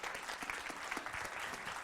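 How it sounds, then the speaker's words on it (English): An audience applauds at a small community business pitch event, a steady wash of clapping hands held throughout at moderate level with no talk over it. "Give her a round of applause."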